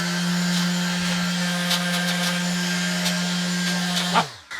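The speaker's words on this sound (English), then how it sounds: "Do not use the sander in enclosed spaces." An electric sander working on a solar rack makes a steady, loud mechanical whine with a constant hum for several seconds, then winds down abruptly at the end.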